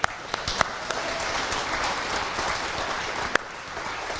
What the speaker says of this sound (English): They would appreciate our applause.